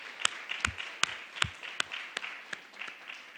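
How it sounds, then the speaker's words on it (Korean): Congregation clapping together at a New Year's Eve church service, a burst of sharp, fairly quick claps with a slightly uneven rhythm, close by and alone. "네, 박수 한번 하시겠습니다."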